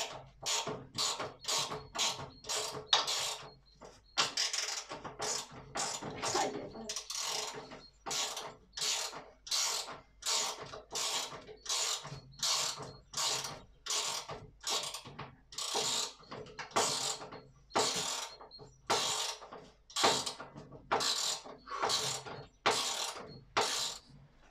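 Screws driven one after another with a ratcheting driver while an aluminium box is built, a steady series of short clicking bursts about every second, close and fairly loud, with no talk.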